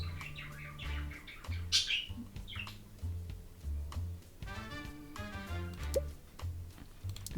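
Shirley, a pet bird, lets out bursts of chirps and one sharp squawk over a looping music bed, interspersed with soft ticking sounds.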